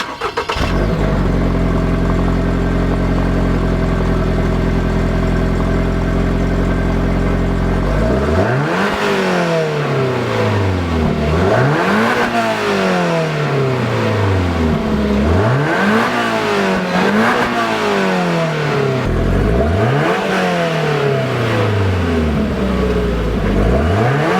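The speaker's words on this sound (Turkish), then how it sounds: "Sırada bu egzozları bir dinleyelim." A 2022 Toyota GR 86 idles with a deep burble, then its large exhausts rev four times in a rhythmic series of rising and falling roars, close by.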